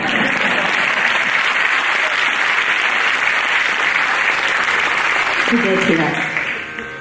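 Sustained audience applause at a fusion music concert featuring violin and veena, a dense, loud wash of clapping that holds steady for about six seconds before tapering off at the end.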